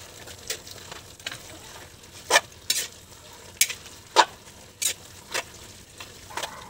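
Bihon noodles and cabbage are stirred in a pan, making a steady faint sizzle broken by sharp scraping and clacking strokes of the utensil at irregular intervals, close up with no talking.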